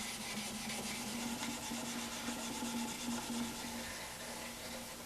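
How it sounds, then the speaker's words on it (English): Steady, continuous rubbing of fine 2000-grit sandpaper over a guitar's lacquer finish, a close, even hiss of light leveling strokes with no talking. "now that I'm done sanding"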